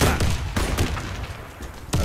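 Gunfire and explosion bursts in the shooter game Warface, with loud sharp cracks at the start and end and dense combat noise between.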